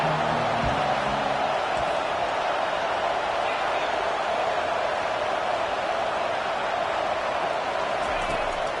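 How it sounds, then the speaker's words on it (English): A packed stadium crowd at an Arkansas versus Alabama college football game roars in a dense, steady wash of cheering that holds loud throughout. "Here comes 2nd down, and this crowd is turning it up a notch."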